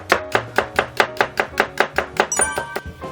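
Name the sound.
knife cutting carrots into thin strips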